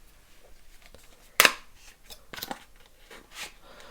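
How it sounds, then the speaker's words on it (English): Cardboard tab on an Apple MagSafe wireless charger box tears open in one sharp, loud rip, followed by quieter papery rustling and a couple of softer scrapes of the packaging. "To open it you just rip this tab across."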